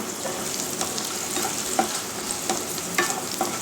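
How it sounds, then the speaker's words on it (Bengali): Potatoes, dried red chili and bay leaf frying with panch phoron in hot oil, a dense continuous sizzle broken by scattered spatula scrapes and small pops, close and alone. "5 ফোড়নের সঙ্গে আলু, শুকনো লঙ্কা, তেজপাতা খুব ভালো করে লাল লাল করে ভেজে নেওয়ার পরে"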